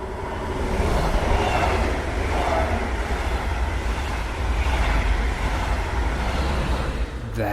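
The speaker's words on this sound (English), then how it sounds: "Yes, rail travel." A passenger train in rail travel rumbles along with a steady, dense roar of wheels and carriage noise, loud and continuous with no voices.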